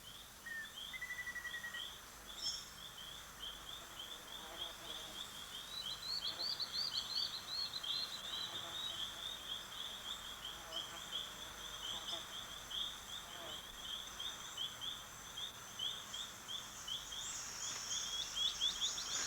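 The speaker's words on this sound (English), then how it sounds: "Predatory ant birds accompany the swarms," Antbirds call and whistle through a rainforest where army ant swarms flush out insects, with repeated chirps and trills over a faint, steady insect-like background hiss.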